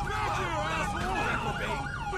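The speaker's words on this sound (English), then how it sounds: "I wish I'd shut my siren off." A police car siren in the video game LSPDFR wails loudly and continuously, its rising and falling tone filling the whole short stretch.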